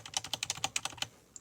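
Individual keys on a computer keyboard pressed one after another, about ten crisp clicky strokes at an uneven pace, close and fairly loud, with a faint lone click at the end and no talking.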